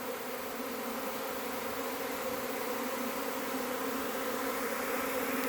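A honey bee swarm makes a dense, steady buzzing drone, close and continuous, with no voices over it.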